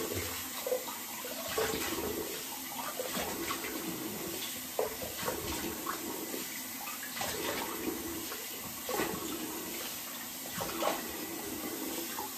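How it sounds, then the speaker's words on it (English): A cold water tap runs steadily in a bathroom during a wet shave with a Gillette 109 or adjustable SlimClip razor, a continuous close hiss of flowing water with no talking. "Cold water."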